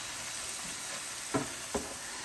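Onions and mushrooms fry with a steady, even hiss on a Blackstone 17-inch E-Series electric griddle. Two quick spatula scrapes cut through as the food is pushed together.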